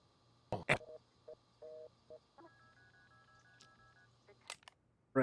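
Touch-tone telephone dialing in the video game Unheard: short electronic keypad beeps in an uneven run, then a longer steady tone, with sharp clicks and knocks before and after, all fairly quiet over a low hum.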